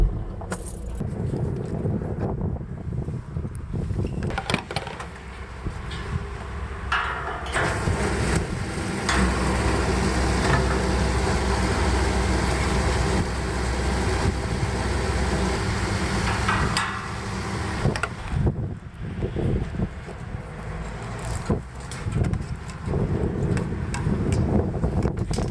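Steady road rumble and wind noise from a car driving to a gas station, with jangling and rattling near the mic and a louder stretch of engine and tire noise midway.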